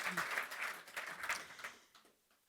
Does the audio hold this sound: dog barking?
no